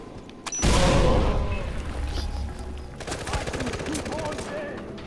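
Explosions and gunfire in the video game Far Cry 4 after C4 charges are thrown, a sudden loud blast followed by sustained rumbling and rapid crackling shots that stay loud throughout.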